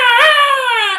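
A voice imitates a wailing siren, one sustained harmonic-rich tone rising slightly then gliding down, loud and close, with no other sounds.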